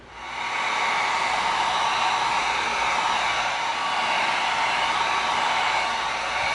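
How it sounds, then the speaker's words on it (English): A heat gun blows a steady, loud, hissing rush of hot air while sealing EVA foam pieces for a Batman grapnel gun prop. It holds constant throughout and sounds close, with no speech. "we're going to make sure we got the bottom of these pieces sealed. So that we've tightened everything up with the heat gun."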